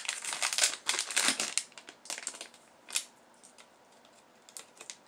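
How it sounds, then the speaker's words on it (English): A resealable plastic bag from an AliExpress earbud-accessory haul crinkles and rustles up close in bursty handling, loud crackles in the first second and a half, then sparser crinkles. "Comes in a resealable bag."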